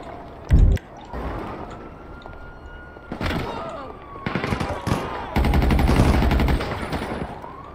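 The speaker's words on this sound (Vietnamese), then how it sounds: "Này là bắn mình nữa gì?" Gunfire is aimed at the player in the video game GTA 5, near an armored vehicle: a sharp early shot, then dense, loud machine-gun bursts that build into sustained rapid fire.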